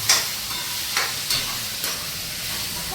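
Tempering sizzles in hot oil for a cauliflower and tomato curry, a steady hissing fry with a few sharper crackling bursts near the start, close and fairly loud, with no talking.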